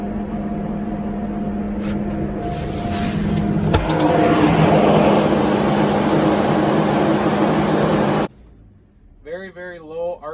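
A John Deere 18-liter engine holds a steady 1800 RPM, giving a loud, unbroken mechanical drone with a high whine on top. It cuts off abruptly near the end, and a voice follows.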